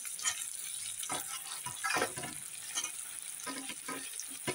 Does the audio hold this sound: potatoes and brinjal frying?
yes